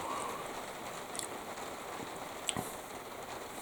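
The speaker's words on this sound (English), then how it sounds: "if I stay quiet for a second, you will hear the rain" Steady soft patter of rain falling, a quiet continuous wash with a couple of faint drips standing out, no voices.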